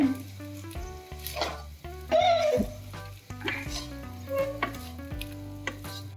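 Potato poha (Gujarati bateta pava) stirred and fried in a hot pan, with a steady sizzle and repeated scraping, clinking strokes of a spoon mixing it through, close and fairly loud with no talking.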